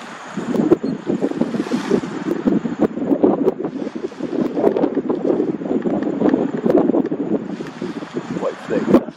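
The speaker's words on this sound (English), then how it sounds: "Wait for that gust to go." Wind gusts buffet the microphone outdoors in bad weather in the bush, a loud, uneven roaring rush that swells and fades repeatedly over several seconds.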